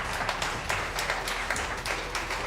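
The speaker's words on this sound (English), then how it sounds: "So can we clap hands for David for this wonderful gift?" An audience at a CAF President AFCON media conference claps for a presented gift, a modest scattered round of applause from a small crowd, steady and moderately loud over the short span.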